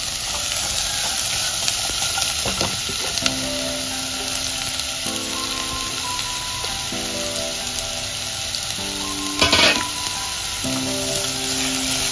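Onions frying in oil in a pan for a Goan ladyfinger amsol, with a constant close sizzle and hiss throughout and one brief louder crackle near the end.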